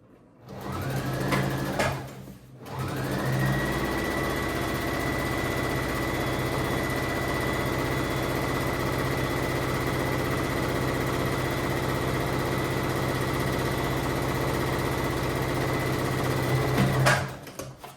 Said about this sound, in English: Let's get our straight stitch.